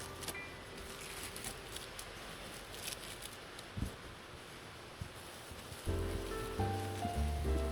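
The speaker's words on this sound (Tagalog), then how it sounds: "Hindi malakas yung ulan ngayon." Light rain patters softly on a rice field during a typhoon, a faint steady hiss with occasional drops, and a louder rustling, buzzing texture rises near the end.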